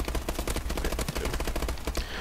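The Bal assault rifle in the Call of Duty Advanced Warfare video game fires a rapid, evenly spaced automatic stream of loud, punchy shots for about two seconds, close and continuous with no talking.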